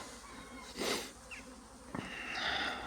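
Buzzing bees drone close by in short bursts that swell and fade against a soft outdoor hum in spring.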